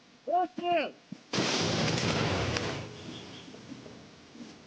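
A single loud artillery gun blast booms close by at the front line in Ukraine and rumbles away, preceded by brief distorted shouts.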